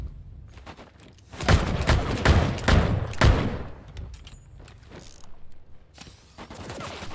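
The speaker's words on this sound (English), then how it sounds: "Of course, he has a shotgun." Shotgun blasts in the video game Vampire Bloodhunt, a rapid cluster of five or six loud, sharp reports after a quiet start, then fading into softer background rumble.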